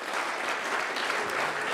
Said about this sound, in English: So another round of applause there.